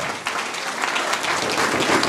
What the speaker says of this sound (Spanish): fuertes palmas por su ofrenda.